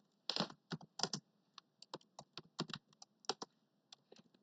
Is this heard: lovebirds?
no